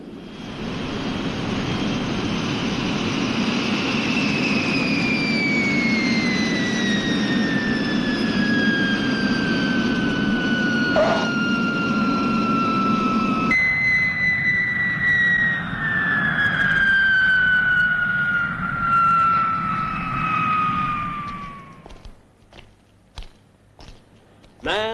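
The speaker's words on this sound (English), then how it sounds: "That's what I call an aircraft." Jet aircraft engine heard from inside the cabin in flight, a loud steady roar with a descending whine, then a few faint knocks and a voice near the end.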